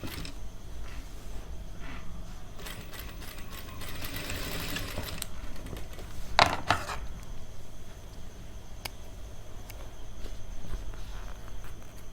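A sewing machine stitches tuxedo fabric for a boys' wedding suit in a brief rapid whirring burst, followed by clicks and handling knocks of the work.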